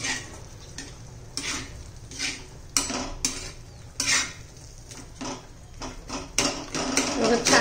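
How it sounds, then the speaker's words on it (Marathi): Cooked tomatoes for tomato raita are mashed in a pan, with repeated scraping, pressing and metal clinks of a utensil against the pan in irregular bursts, close and fairly quiet. "आता याला आपण असं मॅश करून घेऊया"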